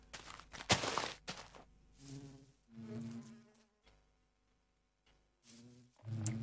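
Bees buzz in the Minecraft Resourceful Bees modpack, a video game, in several close, loud bursts with pauses between them and no talk.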